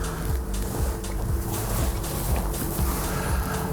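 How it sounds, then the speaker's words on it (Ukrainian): A car engine with no battery, jump-started from a Profiline BM300 booster, turns over and runs, a low, rumbling, pulsing drone with steady rhythmic throbbing and a hissy wash of noise above it. "Двигун стартує."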